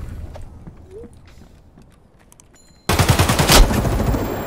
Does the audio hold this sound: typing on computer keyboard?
no